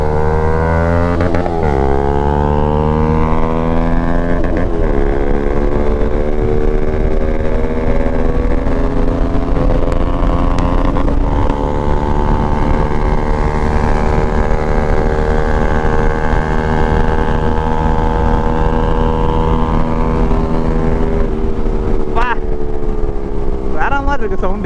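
KTM 390 Adventure motorcycle engine with a loud, steady exhaust drone held close up, its pitch stepping up and down with a few throttle blips and revs throughout.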